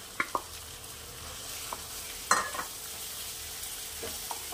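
A thick paste of fried onion, green chili, tomato and cashew, made without water, fries gently with masala in a pan, a soft continuous sizzle broken by a few clacking spoon stirs.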